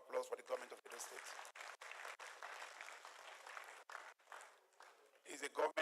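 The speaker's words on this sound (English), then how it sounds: "Please, a round of applause for the government of Edo State." Applause at a Nigeria Football Federation election for the Edo State government, fairly faint and distant with choppy gaps, heard in a large room and ending with a brief louder burst.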